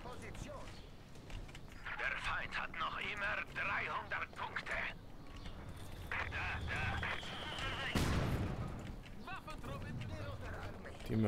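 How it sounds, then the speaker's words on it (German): Mortar shells thump and burst amid a dense wartime battle in the video game Company of Heroes 2, with a steady din of gunfire, one heavy near blast standing out, and voices in the mix. "Die Mörser drücken wieder."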